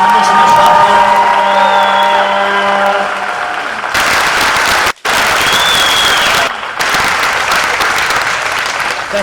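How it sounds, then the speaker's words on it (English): Stadium crowd applauding and cheering for the Kitsap Pumas and Michigan Bucks after the 2014 PDL championship soccer final in Detroit, a loud, dense roar of clapping and whoops with brief dropouts, voices mixed in. "How about a round of applause for the Kitsap Pumas and the Michigan Bucks?"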